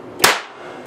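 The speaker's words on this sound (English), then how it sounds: "Again, an ear-splitting bang, but no explosion of the capacitor" A capacitor bank fires its charge through a single capacitor, making one sharp, loud bang that rings out briefly and fades, with no further bursts after it.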